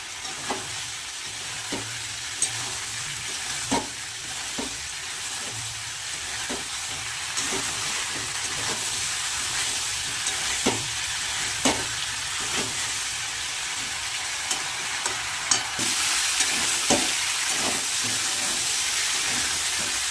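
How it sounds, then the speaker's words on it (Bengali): Fried cauliflower and potato being sautéed with spices in a pan, a steady sizzle with repeated sharp scraping strokes of the spatula throughout, close and fairly loud, no talking. "ভেজে রাখা ফুলকপি আর আলুটা দিয়ে দেবো। মশলার সাথে একবারে কষিয়ে নেবো।"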